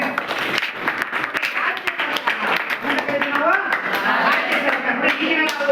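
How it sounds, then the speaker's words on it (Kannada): Schoolchildren in a ninth-grade classroom clapping for a classmate, a dense patter of many hands near and loud, with voices talking over the clapping. "ಚಪ್ಪಾಳೆ ಹೊಡಿ ಅವನಿಗೆ"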